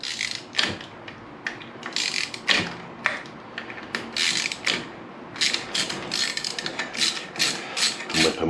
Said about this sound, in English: what we want to do is just crack off all the bolts holding the pressure plate on.